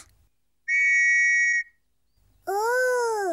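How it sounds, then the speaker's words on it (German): Two loud blasts from a toy whistle in a cartoon: a steady shrill tone lasting about a second, a pause, then a longer second blast that bends upward in pitch, with no talk. "Was ist das? Eine Pfeife."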